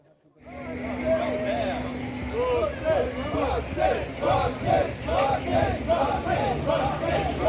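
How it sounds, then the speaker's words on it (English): A large crowd at a model railway show cheers and shouts wildly in a sustained, loud roar of massed voices, with overlapping yells rising and falling close by. "the crowd's going wild"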